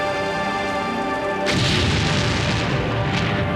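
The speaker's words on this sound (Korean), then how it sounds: "이 폭발 현상은 과학자들 사이에 블리브, 즉 비등액체 팽창 증기 폭발 현상으로 알려져 있다" A liquefied petroleum gas tank engulfed in fire bursts in a BLEVE explosion. A steady roaring fire gives way to a sudden loud, broad blast that continues as a sustained rushing roar.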